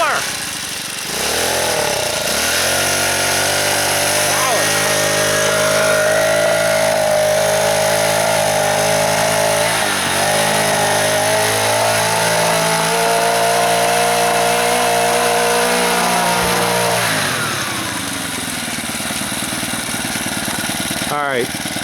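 A homemade, upcycled adult electric bicycle motor revs close by with a loud, rough buzzing whine whose pitch climbs, holds and falls over about twenty seconds.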